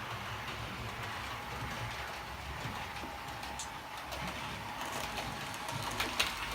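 A Bachmann class 101 DMU model train runs round a reversing loop with a steady whirring motor hum and faint rail clicks, continuous and close, swelling slightly near the end.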